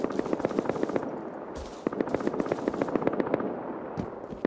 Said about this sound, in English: The AK kid shooting over here